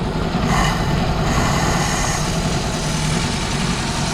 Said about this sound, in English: Let me give it some throttle now.